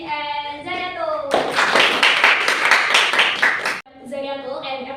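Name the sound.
class applause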